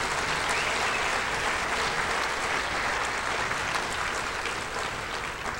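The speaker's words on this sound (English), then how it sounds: "please give another round of applause for our students who did such a wonderful job performing" A school audience applauds students after their Grade 8 Night performance, a loud, dense and continuous clapping that holds steady for several seconds.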